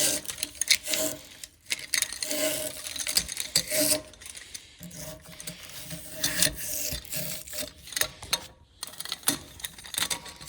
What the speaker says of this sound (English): Run these brushes around in there.